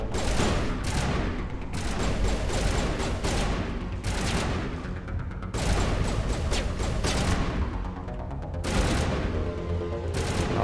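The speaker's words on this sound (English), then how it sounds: "There are Geth with rocket launchers." Rapid gunfire and explosive blasts from a firefight with Geth wielding rocket launchers in Mass Effect, loud clustered bursts and booms repeating in waves with brief lulls.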